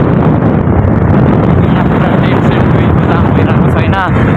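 Wind roars loudly and continuously past the microphone on a family motorbike ride, buffeting without a break and burying other sounds.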